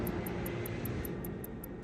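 An airliner at Heathrow airport produces a continuous, loud broadband engine roar and rumble, steady throughout with no speech.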